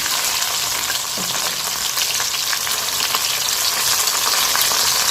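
Close, steady crackle of chicken 65 frying in hot oil, stirred and turned in the pan, with a dense sizzle and a brief scrape near the start, no voices.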